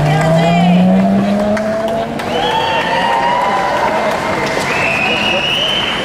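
The brand-new Sunswift solar race car from the University of New South Wales drives past at a race, a loud whine rising and falling as it passes close by, with a crowd cheering and an announcer talking over it.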